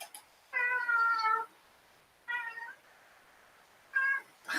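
Several cats meow in separate bursts, three clear calls spaced across a few seconds with quiet gaps between, close and fairly loud, with no talking.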